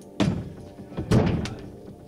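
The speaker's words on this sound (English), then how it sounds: "I just love the like the really damp sound this makes when you hit like a damp bit of wood." Two dull, heavy thunks of something striking a damp piece of wood, close and muffled, spaced about a second apart with a short resonant decay after each.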